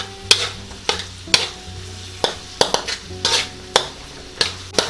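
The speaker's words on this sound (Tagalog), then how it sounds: "ngayon ay isusunod na natin tong ating onion or sibuyas. Tapos hahaluin lang natin." Onion added to golden garlic sizzles in a pan while a utensil stirs and scrapes in quick, irregular strokes over a steady frying hiss, close and fairly loud.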